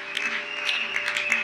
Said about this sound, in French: nous applaudissons fortement le roi des rois